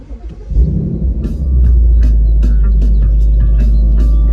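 A Ford Mustang GT with a 10-speed, parked on a hot day, cranks and catches after some faint bird chirps, then settles into a loud, deep, steady idle rumble close by.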